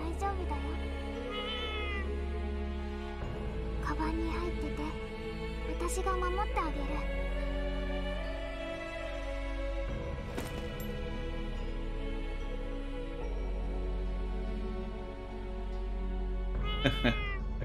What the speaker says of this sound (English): It's cute though, this cat.